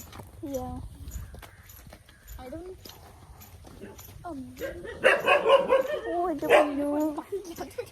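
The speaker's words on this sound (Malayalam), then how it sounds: "ഫുള്ള് പട്ടികളാണല്ലോ എല്ലാ സ്ഥലത്തും" Dogs bark and yip at intervals in a residential neighborhood, moderately close, growing louder and busier toward the end, with people talking over them throughout.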